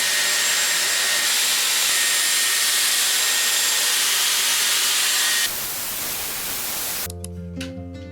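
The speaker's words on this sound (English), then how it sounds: "I'm gonna touch my hair up with the air wrap" A Dyson Airwrap hair styler blows air in a loud, steady rush close by. The pitch shifts partway through, and the rush gives way to music near the end.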